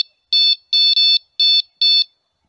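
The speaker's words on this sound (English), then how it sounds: "the alarm goes off" A carp-fishing bite alarm beeps sharply, five high electronic tones in quick succession, loud and close in otherwise silent surroundings.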